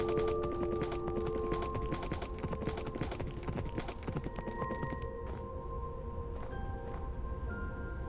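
A horse in the Minecraft video game clip-clops with steady, busy hoof beats, layered over sustained game music tones and dense background noise throughout.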